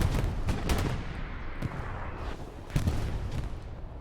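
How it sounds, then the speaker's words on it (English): Dense video game combat fills the clip with repeated artillery blasts and gunfire, sharp booms landing irregularly over a constant loud roar of battle, with no talk. "And now with all these explosions going on, as Novas takes out the OP"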